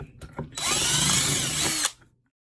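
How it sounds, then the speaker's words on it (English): A power drill whirs steadily at high speed for over a second, drilling out a vintage Honda motorcycle rear wheel bearing, then winds down, with a few clicks and handling noises beforehand. "I'm going to go ahead and drill this out."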